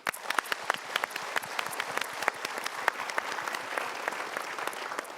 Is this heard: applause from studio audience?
yes